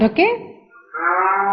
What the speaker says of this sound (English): Cow. Cow. Where do you find the cow?